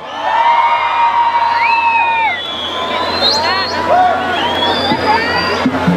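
A crowd at a live orchestra concert in San Jerónimo Tianguismanalco shouts, whistles and cheers loudly and continuously, with whoops rising above the din.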